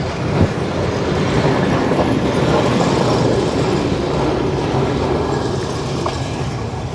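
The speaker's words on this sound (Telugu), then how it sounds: "ఈ ట్రైన్ ఇంకా ఫినిష్ అవ్వకుండా ఈ ట్రైన్ వచ్చేస్తుంది ఇటుపక్క నుంచి" A train rolls past on the railway track, loud and close, with a continuous rumbling roar and faint wheel clatter that holds steady for the whole stretch and eases slightly toward the end.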